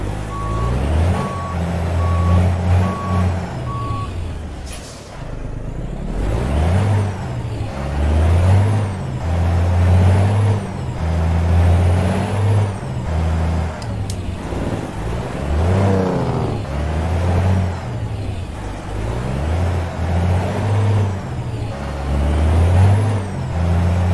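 A heavy truck engine in American Truck Simulator drones and rumbles steadily with periodic revving surges, loud and close, alongside intermittent electronic beeping.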